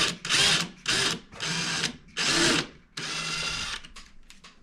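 Drill with a thin bit boring into a tiled bathroom wall, sounding in four loud, whining bursts of about half a second each, then one longer steadier run.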